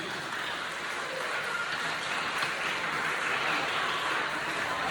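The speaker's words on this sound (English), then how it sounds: "Give another round of applause for all the young men of excellence" An audience at a middle school ceremony honoring young male students applauds in a dense, steady wash of clapping that holds for the whole stretch, with no voice standing out.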